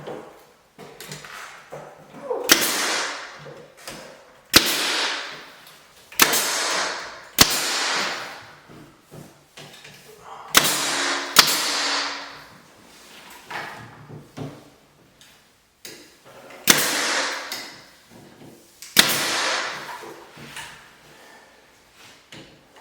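A small nail gun fires into black walnut trim on a mini barndominium, sharp single pops spaced a couple of seconds apart, each followed by a brief hissing tail, with quiet handling sounds in between.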